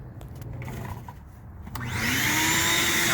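A vacuum cleaner draws out debris from the engine air filter housing of a 2016-or-later Chevrolet Cruze, starting up partway through with a loud, steady, close roar after quieter handling noises.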